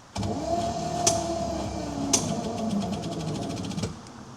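Olds 455 V8 in a 1972 jet boat running with a harsh mechanical noise from the top end, steady engine drone with sharp ticks and knocks recurring through the run, close and loud.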